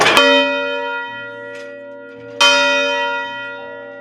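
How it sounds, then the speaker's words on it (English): A Meneely clock tower bell in Cazenovia struck right up close, two loud ringing strikes with long shimmering overtones that hang and slowly fade between them. "It's a wonderful bell."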